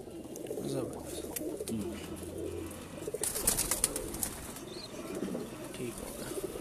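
Breeder pigeons in a loft coo low and steadily while wings flap in sharp bursts partway through, with faint background voices and rustling.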